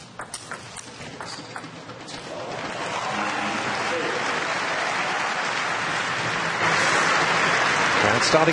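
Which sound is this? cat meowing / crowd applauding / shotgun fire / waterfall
crowd applauding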